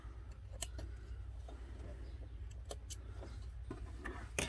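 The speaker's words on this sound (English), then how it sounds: "So just snip off those loose threads." Scissors snip loose fabric threads on a sewing project, several faint, quick clicks scattered over a low steady hum, with no talk.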